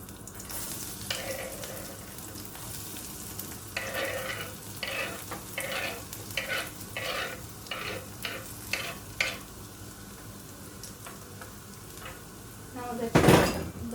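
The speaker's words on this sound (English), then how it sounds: "After putting 1 tablespoon of oil, we have to put. So now we have to add 3 pieces of finely chopped garlic." Finely chopped garlic frying in a tablespoon of oil for pizza sauce, a continuous sizzle broken by rhythmic stirring scrapes and clinks of a spoon on the pan, with a louder clatter near the end.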